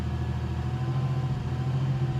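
A 1990 Chevrolet Lumina Eurosport with a 3.1 V6 and 144,000 miles idles roughly with a suspected fuel pressure problem, a steady close low rumble with slight unevenness and no talk.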